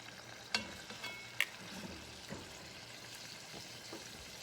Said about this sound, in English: So let's see how our pork chops are browning.